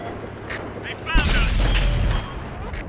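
AMX 50 120 French tier IX heavy tank cannon firing in World of Tanks, a single sharp, loud boom with a rumbling tail, with a voice talking quietly underneath.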